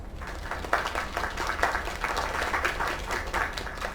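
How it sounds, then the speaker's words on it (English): A crowd claps and applauds steadily in the game Lake, a dense, even wash of many hands lasting throughout, with no voices on top. "Another round of applause."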